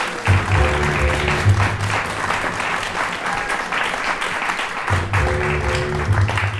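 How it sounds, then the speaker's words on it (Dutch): An audience at a classical-music café show applauds the presenter, a dense, sustained clapping that carries on steadily for several seconds, with a few brief musical tones sounding underneath. "Graag een warm applaus voor de presentator, Louis Gauthier."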